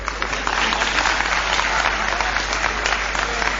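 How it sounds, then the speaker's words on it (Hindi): Steady crowd clapping from a live audience at a Hindi poetry or comedy recitation, a continuous even patter of many hands at fairly high level from start to finish, with no voices over it. "ताली में मजा नहीं आया।"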